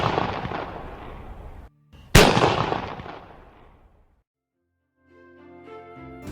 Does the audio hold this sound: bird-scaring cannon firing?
yes